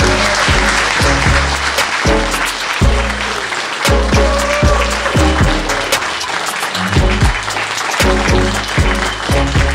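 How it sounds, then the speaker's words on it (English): A live podcast audience at a photography venue in London applauds loudly and continuously, the dense clapping layered over rhythmic music beats. "A big round of applause."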